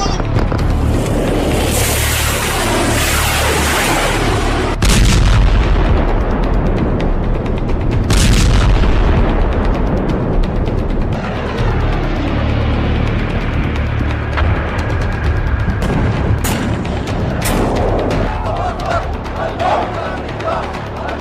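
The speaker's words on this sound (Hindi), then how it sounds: "तेल टैंकर में धमाका, हूथी का खूनी हमला" Explosions on an oil tanker at sea during a Houthi attack boom heavily, with rumbling blasts and a roar like wind and surf carrying through the scene.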